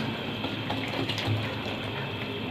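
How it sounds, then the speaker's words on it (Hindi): Cold water poured into Kashmiri chai, a steady, close rush of flowing liquid that holds even in loudness the whole time, with no talking over it. "अब इसके अंदर इसको हमने और कलर लाने के लिए हम इसमें पानी मिलाएंगे।"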